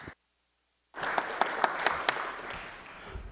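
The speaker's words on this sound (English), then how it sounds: "let's give him a round of applause for coming on out" Audience applause for a conference presenter named Jimmy at SCaLE 22x in a ballroom, starting abruptly after a brief silence and holding steady as a dense wash of clapping with a few sharper individual claps standing out.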